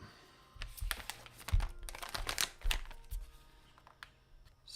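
Scissors cut through Work Louder product packaging, producing crisp crinkling and snipping rustles in uneven bursts, close and fairly loud, with short pauses between cuts.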